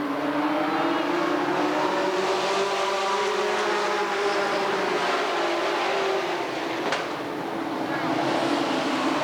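A field of race cars at Redwood Acres Raceway accelerating away at the green flag start, a loud dense engine roar with rising and falling pitch sweeping past, continuous throughout.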